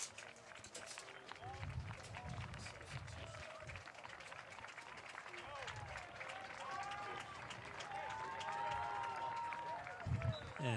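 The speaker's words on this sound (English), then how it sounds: "And Perrins gets a good hand from the home crowd." Home crowd at a boys' high school soccer section final applauds a player coming off on a substitution, with scattered clapping and crowd murmur. Game noise and a commentator's talk run throughout.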